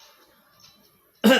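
One short, sharp cough bursts out close to the microphone after a stretch of near silence.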